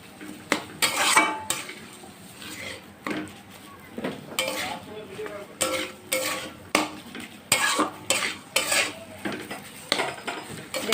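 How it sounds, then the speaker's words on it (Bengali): A utensil repeatedly scrapes and knocks against a pan while cooked potato filling for bread pakora is broken into pieces, making steady rhythmic clatters and scrapes, close and fairly loud, with no speech. "এবার ভালো করে আলুটাকে এইভাবে টুকরো টুকরো করে নেব"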